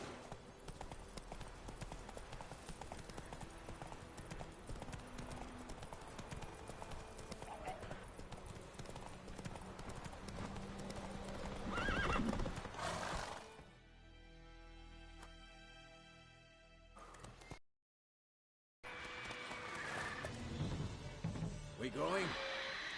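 Hooves of the horse Roach clip-clop in a steady trotting rhythm in the video game The Witcher 3, with a whinny, game music and dialogue around them before a quieter stretch and a brief dropout.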